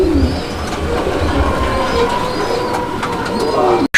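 Low, throaty pigeon coos repeat close by over a steady background hum, with a faint rumble underneath.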